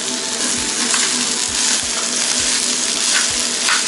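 Stone-pot bibimbap sizzles loudly and steadily in its hot stone bowl at a Japanese yakiniku restaurant in Shibukawa, Gunma, with soft periodic thumps of stirring or utensils against the pot.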